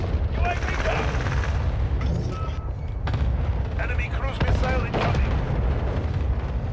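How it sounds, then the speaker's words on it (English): Video game battlefield chaos during an incoming enemy cruise missile strike: continuous gunfire, booms and blasts with electronic alert tones, loud and dense, with players talking over it. "Enemy cruise missile incoming."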